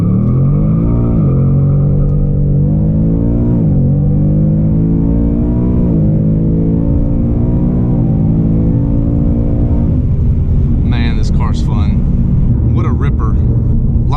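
A Ford Mustang Mach 1 engine revs up, deep loud rumbling rising and falling in pitch through several throttle blips, close and continuous, with a faint rattly texture near the end.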